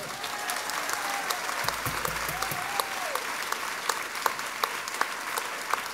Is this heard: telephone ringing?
no